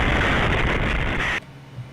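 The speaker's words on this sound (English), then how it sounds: "a massive explosion ripping through a military plant outside" Massive explosion at a military plant, heard as a loud, dense roaring blast that fills the sound for over a second before cutting off sharply into quiet rumble, with no talking.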